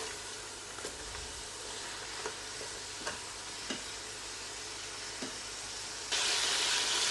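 Lamb karahi fries in a pan with a steady hiss and sizzle, broken by soft periodic ticks of stirring, and the sizzle grows louder near the end.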